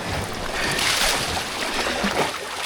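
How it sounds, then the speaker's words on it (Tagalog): Strong sea waves slosh and crash around a small boat near a little island, a continuous broad wash of water and wind noise filling the short stretch without any talk. "Lakas ng alon guys."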